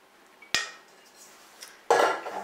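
A spoon or spatula scrapes creamy corn cake batter from a bowl into a baking pan, two sharp metallic knocks and clinks with soft scraping between them, close and clear, no talking.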